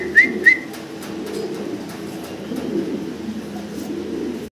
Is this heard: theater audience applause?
no